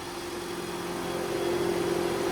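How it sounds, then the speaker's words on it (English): Steady blowing hum of a 2014 Mitsubishi Outlander's AC fan running on full blast, heard up close inside the car as an even, continuous whoosh with a faint tonal drone and no talking. "You can hear that fan blowing up here."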